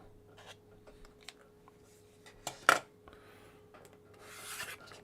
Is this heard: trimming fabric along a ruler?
yes